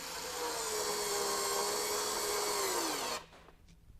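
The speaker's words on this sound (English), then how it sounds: "if we needed to drive just something simple like a small drywall screw" A Ryobi USB lithium multi-head screwdriver drives a small one-inch drywall screw, a close, steady motor whine whose pitch sags as the screw seats, then cuts off abruptly after about three seconds.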